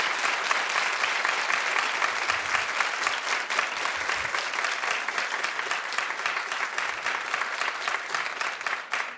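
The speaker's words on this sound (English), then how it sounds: "don't clap for so long" Studio audience at a daytime talk show breaking into loud, sustained applause with scattered whoops, dense and even for the whole stretch.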